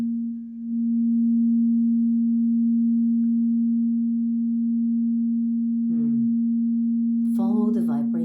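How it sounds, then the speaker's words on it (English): A crystal singing bowl rings with one steady, pure sustained tone that holds evenly for the whole stretch, with faint vocal sounds entering near the end. "You can do this as you strike and play the bowl."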